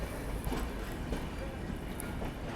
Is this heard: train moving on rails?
yes